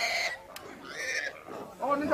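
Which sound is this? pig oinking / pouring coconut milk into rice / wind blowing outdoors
pig oinking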